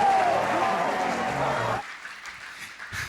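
A church congregation applauding loudly for a second and a half, mixed with voices, then cutting off to quieter room sound with faint movement.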